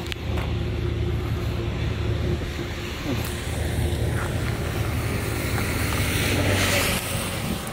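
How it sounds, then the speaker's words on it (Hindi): A car drives up onto a raised highway, its engine and road noise a steady, loud interior drone with wind noise over the microphone throughout. "ये गाड़ी हमारी ऊपर आई"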